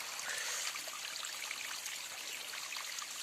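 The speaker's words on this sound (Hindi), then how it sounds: "उन्हीं जंगलों से जो पेड़ों से पानी रिस के आ रहा है वो एक तरह से यहाँ पे इकट्ठा हो रहा है" Spring water seeping out of dense forest and trickling into a pool, a soft steady splashing and burbling heard alone at close range.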